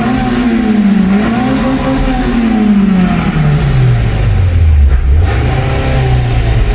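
A Honda Integra Type R engine revving hard and close, the pitch climbing, dropping, then rising again in loud sweeping surges with no talking.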